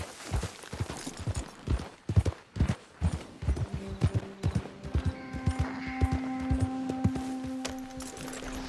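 Horse hooves clip-clopping in a steady trot while riding in Red Dead Redemption II, rhythmic and close, with a musical score rising underneath partway through.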